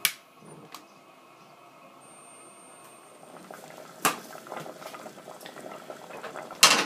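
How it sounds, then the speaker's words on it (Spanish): Tamarind and plum simmering in a cooking pot over low heat, a faint steady bubbling hiss with a few sharp clinks of utensils or the lid, the bubbling growing a little livelier toward the end. "Está ya hirviendo"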